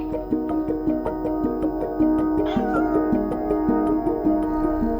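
Repeated video game cat meows with a synthetic tone, loud and close, in a steady rhythm of short calls.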